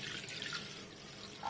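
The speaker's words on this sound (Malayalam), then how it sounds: "ആദ്യം നമുക്ക് ഇതിലോട്ട് കുറച്ച് വെള്ളം ഒഴിച്ചു കൊടുക്കാം." Water is poured into a small kadai to set up steaming for an eggless caramel custard pudding, giving a faint, steady trickle and splash with no voices.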